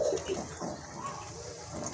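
A pigeon offered for sale coos softly and briefly against a low background hum, the call faint and somewhat muffled.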